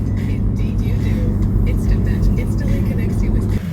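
Inside a car pulling away from an RV park, a loud steady road and engine rumble fills the cabin, with faint higher whooshes and rattles throughout and a slight drop in level near the end.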